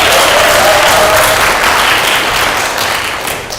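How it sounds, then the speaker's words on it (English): A round of applause fills a robotics competition kickoff gathering in Portland, steady dense clapping from a crowd that holds loud and slowly eases toward the end. "So let's get another round of applause for that."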